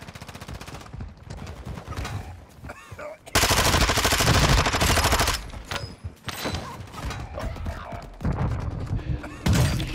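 Sustained automatic gunfire aimed at the player in Call of Duty: Modern Warfare II, with dense rattling bursts that swell louder midway and continue in rapid volleys to the end.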